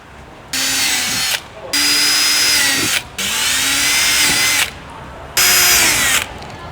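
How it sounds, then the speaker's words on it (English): Power drill with an 8mm bit boring pilot holes while fitting a splitter kit to a Hyundai i30 Sedan N, four loud, close whining runs of about a second each, separated by short pauses as the motor spins up and winds down. "take your 8mm drill bit and punch in some pilot holes"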